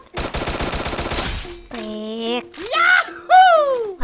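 Rapid automatic gunfire from the video game Free Fire bursts loudly for over a second, then stops; a child-like voice talks excitedly afterward over brief in-game tones.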